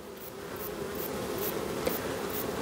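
Honeybees in an opened hive hum in a dense, continuous drone during an inspection, close and steady, with no talk.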